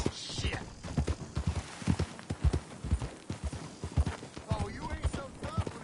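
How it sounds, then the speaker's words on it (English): A horse's hooves clip-clop steadily in Red Dead Redemption 2, a close, regular rhythm of sharp strikes that runs throughout, with voices talking over it. "That's a strong-looking horse."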